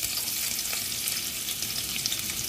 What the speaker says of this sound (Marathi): आता आपण ह्यात ही बारीक केलेली लसूण घालून घेऊ